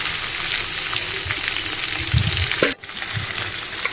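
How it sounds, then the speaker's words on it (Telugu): Sliced little gourd (tindora) fries in a pan with a steady crackling sizzle, stirred now and then with a few scraping knocks, then a sharp clack and a brief dip before the frying noise carries on. "మధ్య మధ్యలో కలుపుతూ మూత పెట్టి బాగా వేయించుకోవాలి"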